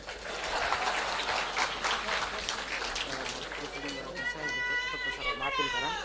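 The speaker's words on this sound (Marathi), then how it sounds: "वाजवा टाळ्या." Applause from a crowd at a public speech, dense clapping with voices and shouts mixed in, followed by a whistle or cheering at the end over the continuing noise.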